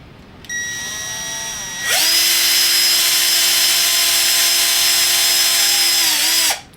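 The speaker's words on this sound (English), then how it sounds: "and I'm drilling 2 small holes" A power drill whines steadily as it bores two small holes in the bracket of an arborist helmet, starting with a lighter spin before the motor loads up into a loud, sustained high-pitched drone that stops abruptly.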